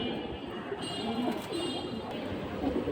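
Pedigree pigeons being shown for sale coo softly under a steady wash of background noise, the low calls repeating through the whole short stretch.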